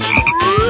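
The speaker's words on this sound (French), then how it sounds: "Non, c'est une grenouille" Loud close frog croaks, two short throaty bursts over a rising electronic tone, no speech.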